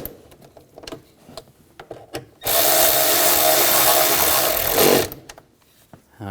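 A power tool runs in one steady sustained burst of about two and a half seconds while bolts are tightened on the intake of a 2007-2013 BMW X5 with the 3.0L inline-six, with shop clatter before and after.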